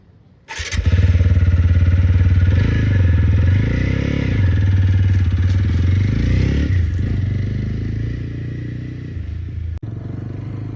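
A TVS Apache RTR 160 4V motorcycle engine starts and runs steadily at close range, a loud low rumble with slight revving changes throughout.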